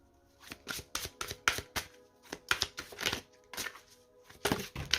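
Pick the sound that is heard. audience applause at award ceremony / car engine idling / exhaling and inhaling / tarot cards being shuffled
tarot cards being shuffled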